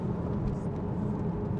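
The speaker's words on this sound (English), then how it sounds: "Listen to that engine." A 2013 Porsche Boxster S 981 with a 3.4 engine and PDK gearbox on the move, giving a steady, moderately loud low engine rumble and drone without a break.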